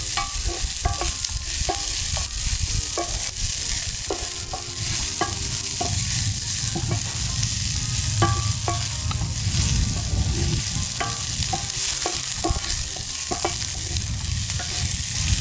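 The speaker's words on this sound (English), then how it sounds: "So just saute this a little." Ingredients sauteing in oil in a pot over an outdoor fire while making a Jamaican mackerel breakfast: a continuous close sizzle with frequent scraping stirs and clinks, no voices.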